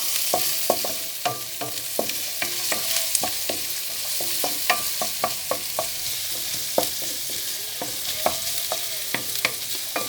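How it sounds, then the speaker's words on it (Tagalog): Garlic frying in a pan gives a steady hiss of oil, with frequent light clicks and taps of a utensil against the pan as it is stirred, close and continuous. "Wait until golden brown ang bawang para masarap lalo."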